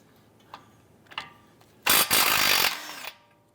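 A power tool with a 17mm socket spins off a tie rod nut on a 2012-2017 Toyota Camry, first a few small clicks, then a loud, close whirring burst of about a second that winds down.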